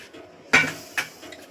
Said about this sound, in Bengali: কড়াইটা বসিয়ে দিলাম